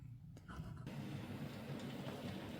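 A pair of Scale Trains Rio Grande SD45 model locomotives running close together, giving a soft continuous low motor hum and rolling rumble, faint and steady.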